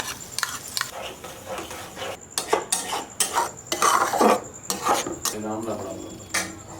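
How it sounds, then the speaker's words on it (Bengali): Whisked yogurt is stirred into fried spice paste in a pan for mixed vegetables, with repeated scraping and knocking of a spoon against the pan, while a person talks intermittently. "টক দইটা দিয়া ভালো কইরা মিশায় নেব"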